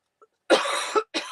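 A single close, harsh cough, followed by a shorter second cough, with a faint breath just before.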